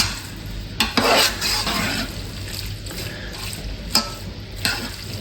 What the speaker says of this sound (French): Je vais mélanger mon blanc à ma viande.